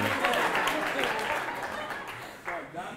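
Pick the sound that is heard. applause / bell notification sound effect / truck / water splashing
applause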